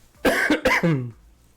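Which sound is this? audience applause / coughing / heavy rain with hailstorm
coughing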